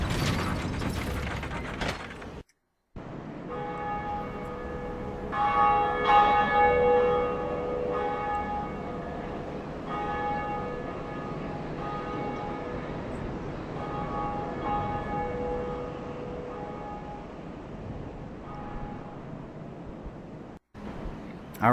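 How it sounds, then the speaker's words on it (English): The Bell of Awakening in the game Dark Souls, a mechanical ratcheting clank followed by a sustained ringing church-like bell tone that fades slowly. "one of the two bells of awakening have been rung"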